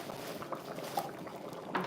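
Vegetable soup bubbling in a pot on the stove, a soft, steady simmering patter with a few small pops, faint and close.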